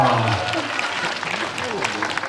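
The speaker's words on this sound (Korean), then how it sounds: "박수 부탁드립니다." Audience applause at a Korean film showcase game segment, a steady wash of clapping that lasts throughout with voices and cheers mixed in.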